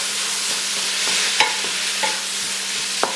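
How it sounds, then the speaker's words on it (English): Cooking wine hisses and sizzles in a hot pan of pork fried rice as it deglazes the stuck bottom, a steady loud frying hiss broken by a few soft clinks of a stirring utensil, no voices. "let me get a little bit more of that cooking wine in there just to kind of deglaze the bottom"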